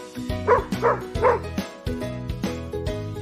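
A dog barks three times in quick succession over a bright, steady musical backing, then the music carries on without barking.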